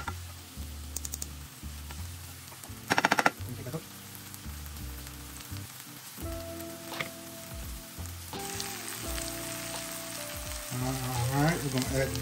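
A hash of potatoes and venison sausage browns in a pan with a steady, close sizzle, under a few clinks and scrapes of a utensil, and the frying grows louder toward the end.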